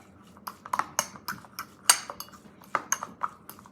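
Drained tuna mixed in a bowl, with a close run of irregular metal utensil clinks and scrapes against the dish, quiet and without talk.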